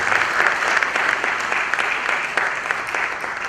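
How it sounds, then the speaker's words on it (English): A crowd at a celebration event honouring Prince Emeka Obasi gives a round of applause: loud, continuous, even clapping from many hands that is sustained for the whole stretch. "Round of applause."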